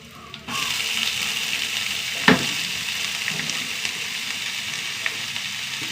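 Cabbage and curry leaves fry in a pan, starting with a sudden burst of loud sizzling, then a steady close hiss with one sharp clatter of stirring.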